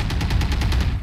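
Rapid automatic gunfire fires through a wall in Valorant as a close, loud burst of evenly spaced shots lasting about a second.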